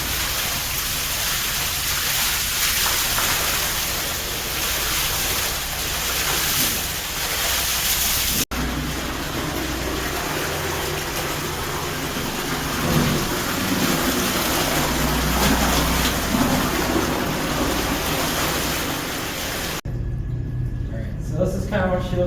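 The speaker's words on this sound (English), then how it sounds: "You kind of just start spraying the sand, and once you get the water flowing, you kind of help bring the sand apart." A water hose sprays inside a manure tanker, loosening and washing out packed sand in cold weather: a steady, close, rain-like hiss of water that surges midway and cuts off sharply near the end.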